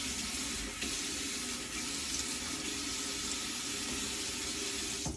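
Water runs steadily from a bathroom tap into a sink while someone wets their face before shaving, a constant close hiss and splash with no talking.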